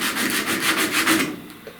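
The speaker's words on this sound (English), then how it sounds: "Sanding in here and feathering this in." A round sanding block rubs by hand over body filler on a truck cab corner, feathering the repair in rhythmic back-and-forth strokes that are close and steady, then easing off near the end.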